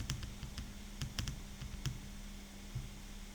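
Computer keyboard typing while entering text into a spreadsheet cell: a few scattered soft key clicks at close range over a quiet steady hum, alone without talk.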